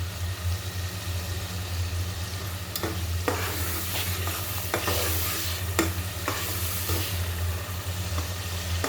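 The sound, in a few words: tomatoes frying and stirred with spices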